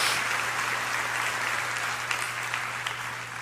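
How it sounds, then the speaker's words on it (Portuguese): Church congregation applauding the Lord during a sermon, a steady dense wash of clapping throughout, with a low hum underneath and no voices. "Dá uma salva de palmas ao Rei aí, ao Senhor."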